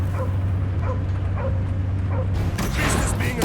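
Cosmo the dog from Guardians of the Galaxy gives several short yips and whimpering barks over a steady low hum, followed by a louder burst of game action noise.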